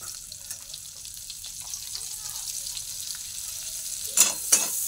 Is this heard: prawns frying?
yes